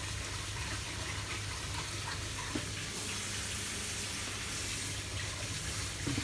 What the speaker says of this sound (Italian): L'acqua bolle.